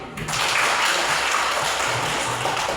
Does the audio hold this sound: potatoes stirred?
no